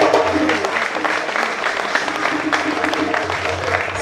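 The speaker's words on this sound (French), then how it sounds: "Applaudissez quand même." An audience at an award ceremony applauds continuously, a dense wash of clapping mixed with crowd murmur and voices throughout.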